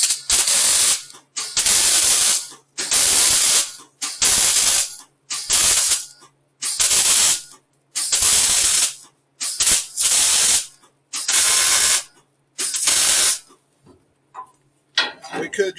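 Hot, heavy weld tacks go onto a thin-wall floor brace for a 1950 Ford F1, heard as about a dozen loud crackling bursts, each a second or so long, separated by short silent pauses.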